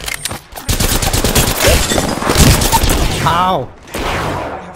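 Rapid bursts of gunfire in the battle royale video game Apex Legends, loud and close, with players talking excitedly over the shooting.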